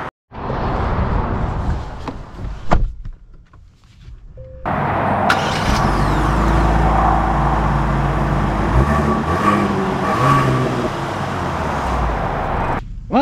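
Genesis GV80 Prestige all-wheel-drive SUV starting off and accelerating: a few clicks and thumps, then a steady engine drone rising with the speed, heard from inside the cabin without talk.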